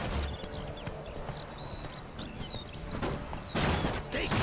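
A horse gallops hard in a race in The Witcher 3, with rapid hoofbeats over outdoor ambience and chirping birds, growing louder near the end.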